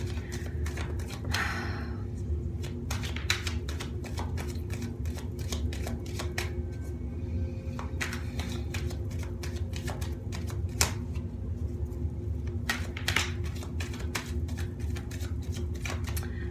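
Tarot cards are shuffled in quick, crisp riffles and taps, a continuous clicking patter over a low background hum.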